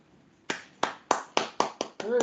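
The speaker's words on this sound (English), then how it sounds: "Hey, applause. People." Seven sharp, evenly spaced claps from a small group at a training bootcamp session, close and distinct, ending as a voice starts to speak.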